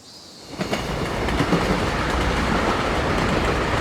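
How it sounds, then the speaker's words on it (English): A train runs along its rails in a music video, a steady, loud rolling roar with rhythmic clickety-clack from the wheels that swells in and then holds. "Okay, train."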